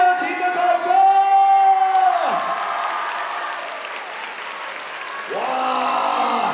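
Loud, sustained applause and cheering from a crowd at a university joint freshman dance showcase, greeting the Central Breaker dance crew, with whoops and yells rising over the clapping and swelling again near the end.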